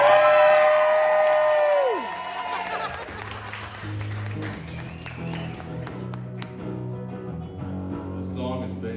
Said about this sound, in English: Everybody clap for Greg.